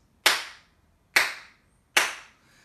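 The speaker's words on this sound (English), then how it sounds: "I take the three middle fingers of one hand, I'm going to play on the palm of the other hand" Three sharp, separate palmas claps, the three middle fingers of one hand striking the other palm, each crisp and close with a quick decay, evenly spaced about a second apart during a body music lesson.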